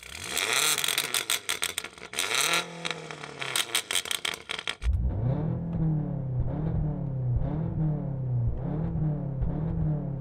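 A BMW M5 tuned to 1000 hp revs hard in a string of rapid blips, then swings into loud, repeated rising-and-falling rev sweeps close by, with no talk over the engine.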